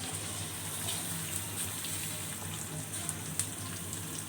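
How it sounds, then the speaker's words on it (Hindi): Onions added to hot oil in a pan for Hyderabadi mutton biryani give off a steady, faint hiss and sizzle with no voices, continuing evenly throughout. "अब मैं इसमें प्याज डाल रही हूँ।"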